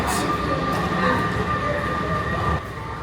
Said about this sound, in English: Oh, here it comes. Here comes the Metro.